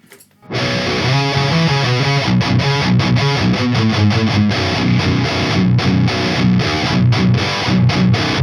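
Loud, heavily distorted electric guitar through a high-gain amp, MESA Dual Rectifier or Driftwood Darkest Nightmare, playing chugging riffs and chords with sharp rhythmic stops, dry and up close.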